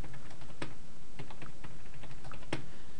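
Keys on a computer keyboard are pressed to enter a password, producing a quick, uneven run of close clicks with a few sharper taps.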